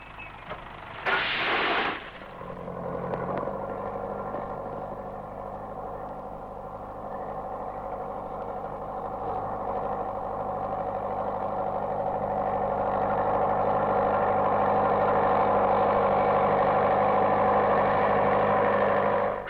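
A heavy David Brown tractor engine clearing an old orchard in the Middle East idles and then revs into a steady low rumbling drone after a brief burst of noise at the start, growing slightly louder throughout.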